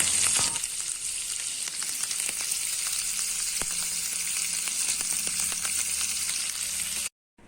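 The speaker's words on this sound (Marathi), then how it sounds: "हे सर्व तेलावर खमंग वास येईपर्यंत परतून घ्यावं" Loud, continuous sizzling of aromatics sautéing in hot oil, with occasional crackles and pops, cutting off abruptly at the end.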